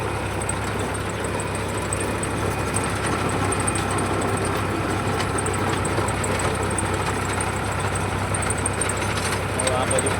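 A farm tractor engine runs steadily at idle near a field, a continuous low rumbling drone with a faint high whine on top, unbroken throughout.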